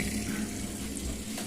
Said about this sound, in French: Premier rinçage.